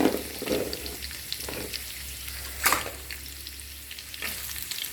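Mustard seeds, cumin and garlic frying in a pan, a steady close sizzle with occasional stirring scrapes and small crackles and no talk.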